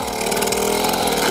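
A freshly rebuilt Stihl 090 AV chainsaw with a 4-foot bar bogs at low revs while cutting through a massive oak root ball, giving a loud, dense, steady engine drone close by.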